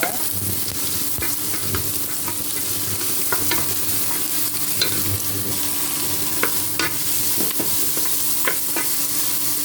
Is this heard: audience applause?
no